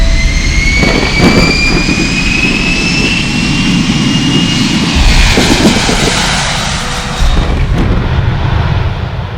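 A jet airliner takes off with a loud, rising engine roar and a high whine sweeping upward, the thunder swelling and then easing slightly as it climbs away.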